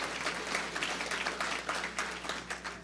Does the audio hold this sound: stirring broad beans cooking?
no